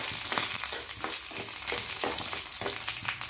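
Garlic and dried red chillies frying in hot oil as tempering for a chickpea and gongura dish, a steady, close, loud sizzle with crackling pops throughout and no talk.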